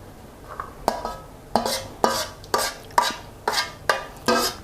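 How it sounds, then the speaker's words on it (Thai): Sago pudding mixture goes from a pot into an 8x8-inch tray with a steady rhythm of scraping, sloshing strokes about twice a second, each one a wet scrape against metal, heard close with no talk. "นำไปเทใส่ถาดได้เลย จะใช้เป็นถาดขนาด8คูณ8นิ้วนะครับ"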